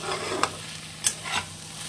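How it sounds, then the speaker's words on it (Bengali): Pasta frying with black pepper and salt in a pan for a vegetarian cheese pasta, a close, soft sizzle punctuated by a few sharp scrapes of a spoon stirring against the pan. "তো আবারও ভালো করে নেড়ে চেড়ে দু মিনিট ভেজে নেব"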